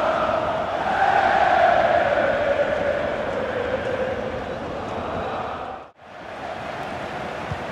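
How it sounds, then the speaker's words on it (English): A large stadium crowd in the video game FIFA 21 roars and cheers steadily at a Borussia Dortmund match, a broad sustained wash of voices that dips briefly before swelling again. "Must be really great for the Dortmund players to hear this crowd"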